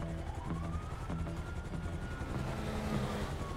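A helicopter in GTA V roleplay gives a steady, rhythmic thrumming rotor drone at moderate volume, continuous across the short stretch.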